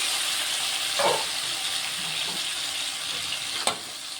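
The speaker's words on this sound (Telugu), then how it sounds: "క్యాప్సికమ్ కొంచెం ఫ్రై అయిపోయాయండి." Capsicum frying in oil in a home kitchen pan, a steady broad hiss and sizzle running throughout, with a few faint stirring clinks and one sharp tap near the end.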